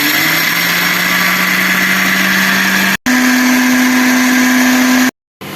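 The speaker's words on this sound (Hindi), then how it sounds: "हमने ये अपने ये ग्राइंडर मशीन को जो है कम से कम 15-20 मिनट चलाया" A home grinder machine running continuously to spin cotton candy from sugar, a loud steady motor whine with a shifting pitch, cutting out briefly twice.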